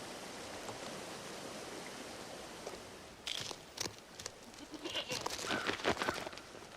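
Wind and a rushing stream fill the background in Glacier National Park while several short mountain goat bleats break through in the second half, fairly close and irregular.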